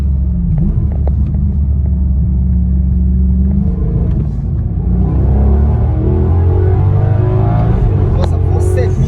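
A Ferrari V8 engine rumbles heavily from inside the car, revving and accelerating with rising harmonic whine toward 7500 rpm, loud and continuous, with someone talking over it.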